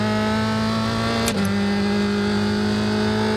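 A USF2000 open-wheel race car engine at half throttle in the iRacing simulator, a steady, loud droning whine holding one pitch with a brief blip partway through, heard alone.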